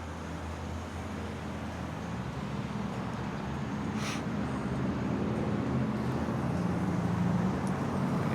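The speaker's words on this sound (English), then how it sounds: "Watch out for all these cars, a lot of left turners" Steady road traffic rumble from passing cars and other vehicles near a busy trail crossing with turning cars, continuous and moderately loud throughout with no talk.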